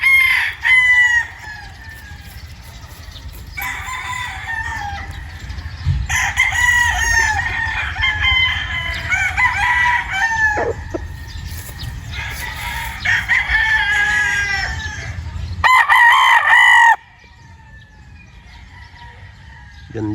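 Sweater gamefowl roosters crow on a farm. Several loud, drawn-out cock-a-doodle-doo calls follow one another, some overlapping, close by, over a low background rumble.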